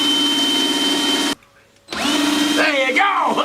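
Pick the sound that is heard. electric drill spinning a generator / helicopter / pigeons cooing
electric drill spinning a generator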